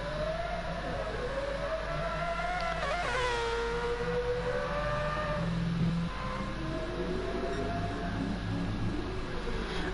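A Mazda 787B race car with a Wankel rotary engine screams at high revs on track, its sharp whine rising and falling through gear changes, heard loud and fairly close with no talk.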